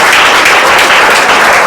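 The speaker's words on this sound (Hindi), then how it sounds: "ताली बजाओ कस के।" A classroom of students claps loudly for a girl being called up to receive a prize for a Saturday test, a dense, close, continuous roar of hands that never pauses.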